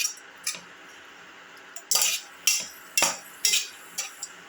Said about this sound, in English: Keep on sauteing. Saute thoroughly